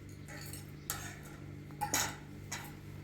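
Metal forks and cutlery clink and clatter against dishes in a quiet indoor setting, with a few sharp chinks spread irregularly over a low background hum.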